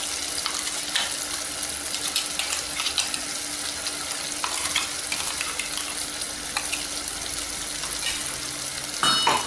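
Ground paste for vatha kuzhambu sizzles steadily in hot oil close by, with occasional scraping and stirring sounds and no talking.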